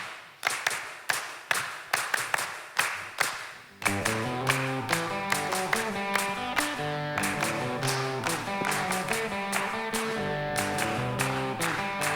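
A church congregation claps in a steady beat for a few seconds, then keeps clapping along as band music with bass and keys kicks in, the claps staying prominent over the song.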